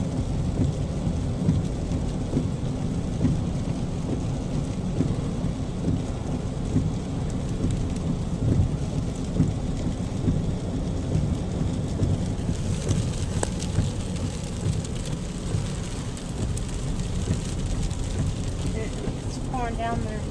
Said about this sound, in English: It's pouring down the sides of the hills.